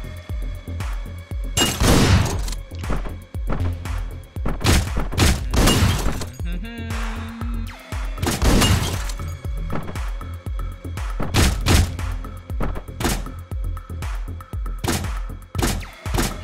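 Repeated slow, heavy gunshots from a weapon in the video game Hotline Miami 2, loud and booming with shattering impacts, spaced irregularly over a dense game soundtrack.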